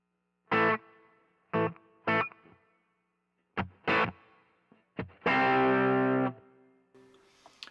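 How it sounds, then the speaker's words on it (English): Distorted electric guitar through a Dumble-style amp, several short chord stabs then a longer sustained chord, each trailing off with a light reverb tail. "There's a little bit of reverb on there right now."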